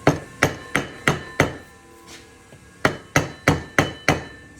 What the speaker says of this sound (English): It's gotta be the worst hammer in all history.